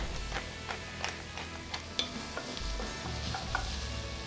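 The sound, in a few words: onion with salt and pepper sautéing in pan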